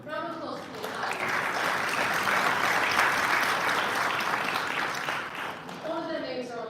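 At a United Nations town hall conference in the ECOSOC chamber, an audience gives a loud, dense round of applause that swells and sustains for about five seconds before tapering off, with a speaker's voice at the start and end.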